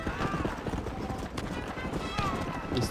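Horse hooves clip-clop steadily in the Western video game Red Dead Redemption, mixed with game ambience and talk throughout, with faint whinny-like tones.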